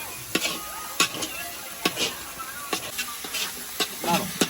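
Food being stirred and mixed in a pan at a birthday party cooking session, with repeated scraping strokes about every half second over a soft sizzle and hiss, and people talking faintly in the background.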